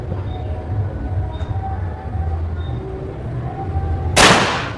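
A single sharp shot from an air rifle, a generation 2 MH project gun rated at 1400 fps, cracks near the end over a low steady background rumble.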